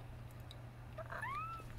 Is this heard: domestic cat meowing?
yes